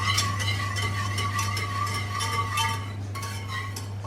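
Mashed vegetables loosened with poaching liquid being stirred slowly in a pan, with a steady scraping and clinking of the utensil against the metal over a low constant hum.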